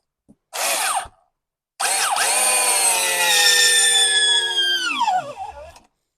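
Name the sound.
Makita 6010D drill driving a screw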